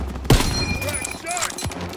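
Rifle and machine-gun fire in the Call of Duty WWII Operation Cobra mission: a sharp close shot followed by scattered bursts and whizzing effects, with shouting voices mixed in.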